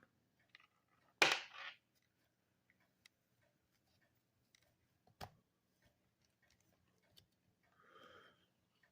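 Cutters snipping plastic on an RC crawler during a silicone insert and battery relocation job, one sharp close snip followed by a few faint clicks and a later softer cut, with quiet gaps between.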